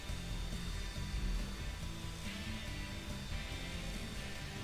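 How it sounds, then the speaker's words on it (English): A hairdryer on its high setting blasts air over freshly poured epoxy on a coin-topped bench, a steady, loud, unbroken blowing whir with no voices over it. "I just used a hairdryer to blow out any bubbles that had formed over there."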